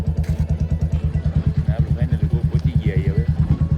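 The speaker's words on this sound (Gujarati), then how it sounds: "ગોપ માથે ચડવાનું આપણે ચાલુ કરી દીધું હોય બાઇક લઈને" A motorcycle climbs the hill road to Gopnath in rainy weather, its engine thumping in a steady, loud, close pulsing rhythm, with a voice speaking over it.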